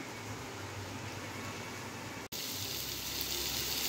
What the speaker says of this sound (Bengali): একটু হালকা ভাজা ভাজা করবো আমি